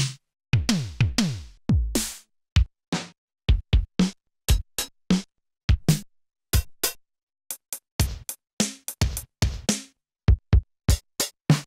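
Drum kit hits sequenced on a Synthstrom Deluge groovebox ring out as sharp, dry one-shots in an irregular pattern, some quick rolls and bright percussive cracks separated by silent gaps, close and loud with no talk.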